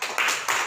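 A classroom of students claps for a classmate in a short burst of clapping, two quick swells of dense hand claps.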